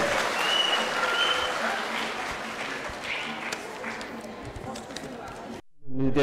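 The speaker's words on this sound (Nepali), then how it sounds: "जोरदार तालीले उहाँहरूलाई सम्मान गरौँ।" An audience at a civil service honours ceremony breaks into sustained, dense applause for performers, loud at first and tapering slightly before stopping suddenly, with a brief voice rising right after.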